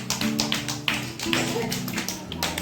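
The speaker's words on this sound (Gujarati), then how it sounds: "પહેલા તાળી પાડી ગયો બધાય" Young children at an anganwadi clap together in a burst of uneven, close claps under an adult's voice and the children's chatter.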